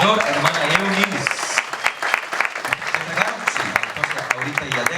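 A church congregation applauds loudly, with dense sustained clapping that fills the room while a voice carries on over it.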